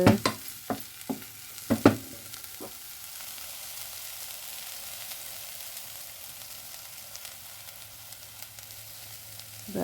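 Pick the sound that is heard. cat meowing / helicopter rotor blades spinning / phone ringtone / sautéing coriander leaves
sautéing coriander leaves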